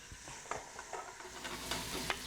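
Zucchini and yellow squash hit a pan of olive oil for ratatouille, giving a soft, continuous sizzle with a few light scraping and stirring taps, fairly quiet throughout.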